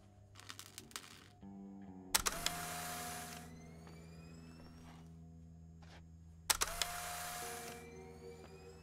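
Mechanical clicks and a camera-like whir as a camera is readied in the game The Suicide of Rachel Foster, with two sharp bursts of clatter several seconds apart over a low steady background hum.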